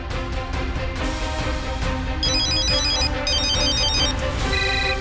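A phone ringtone rings on and on with no answer, its repeating electronic melody steady and clear against a faint background for the full five seconds.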